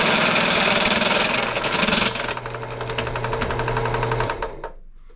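A power drill bores a 7/8 inch hole for a homemade quick coupler attachment, a loud close whirring grind that eases in pitch partway through and then winds down to quiet.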